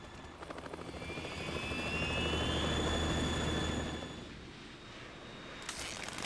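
A Harrier jet in the video game Metal Gear Solid 2 roars with a loud, steady turbine whine and rotor-like rumble that swells and then eases, with no talking over it.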